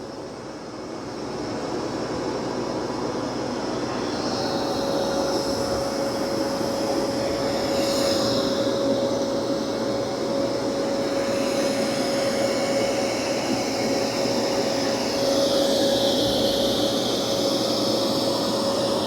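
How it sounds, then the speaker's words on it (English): A Dreame X60 Max Ultra robot vacuum runs steadily on carpet through a coffee spill, a loud, continuous whirring roar with a fixed tonal whine that shifts slightly as it moves, no talk. "Wow, it's doing a good job of vacuuming."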